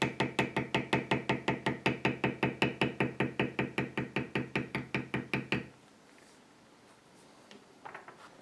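Leather tooled with a beveler struck by a mallet: a steady run of about thirty evenly spaced sharp knocks, close and loud, then an abrupt stop followed by quiet room noise and a few faint soft sounds.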